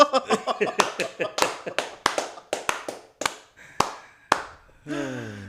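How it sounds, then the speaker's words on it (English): A standing audience in San Antonio claps for a man, with distinct, sharp hand claps at first rapid and then spaced out and slowing, before a voice breaks in at the end. "Everybody standing, give him an applause"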